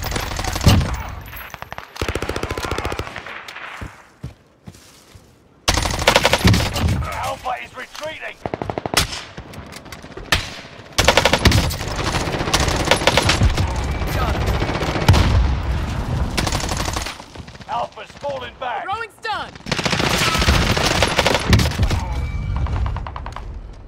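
Rapid machine-gun bursts and scattered gunshots in a Call of Duty: Warzone match, loud and close, arriving in repeated volleys separated by brief lulls, with occasional thuds and explosions mixed in.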